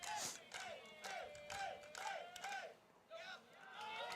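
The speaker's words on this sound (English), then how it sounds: "Crowd starting to get into it once again." At a high school baseball game between Waverly Tigers and Gallipolis, a crowd yells and chants in rising, wavering shouts that repeat in loud bursts, with overlapping voices and a brief lull before the noise swells again.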